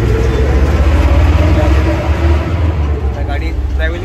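Vehicle driving along a road while traveling to a village, a steady low engine and road rumble running throughout at close range, with people talking over it.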